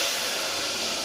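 Chili-spiced masala sizzles loudly as water is poured into the hot pan while cooking lachha paratha, a dense, bright hiss holding steady without letup for about a second, with no talking.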